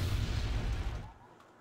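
Artillery fire in the Wargame AirLand Battle game: a loud, heavy low rumble from shells that holds, then fades to a softer tail.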